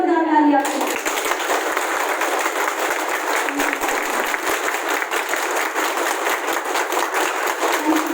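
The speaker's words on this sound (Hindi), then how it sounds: "एक बार जोरदार ताली आपको।" A large audience at a motivational talk in Karnal bursts into loud, sustained clapping just after a brief spoken line, a dense rattling wall of hands that holds steady throughout.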